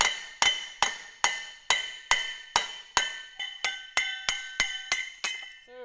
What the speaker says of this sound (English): I'll just take a hammer to it